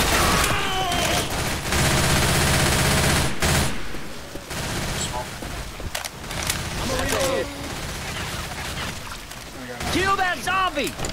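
Sustained automatic gunfire in the zombie shooter Left 4 Dead, dense rattling bursts close and loud, easing in the middle then returning, with voices speaking and shouting over the shooting.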